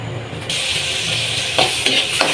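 Garlic and onion sauté in hot oil in a pan with a bright, steady sizzle, broken by a few louder spits and stirring scrapes, with no voices.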